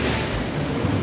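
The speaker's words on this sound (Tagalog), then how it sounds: "Talsik ng tubig" Water washes and splashes at the shore of an island resort, a dense, loud rush of surf close to the microphone with no pauses and no voices.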